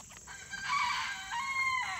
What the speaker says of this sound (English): And of course all of my roosters are going to sound off now